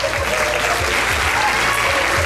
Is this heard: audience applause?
yes